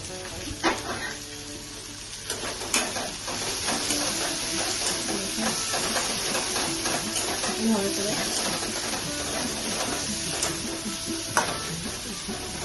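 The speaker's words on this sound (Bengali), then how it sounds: "কারি পাতাটা ভাজা হয়ে গেল" Curry leaves frying in oil for a rohu fish curry, a steady close sizzle and hiss with stirring scrapes, under someone speaking now and then.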